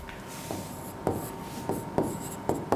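Marker or chalk strokes on a board during a lecture, heard as several short scratchy rubs spaced about half a second apart, close and fairly quiet.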